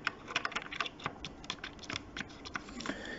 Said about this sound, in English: If you're hearing scratching, Mia has found some coins and she is scratching at those